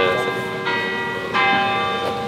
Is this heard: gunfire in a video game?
no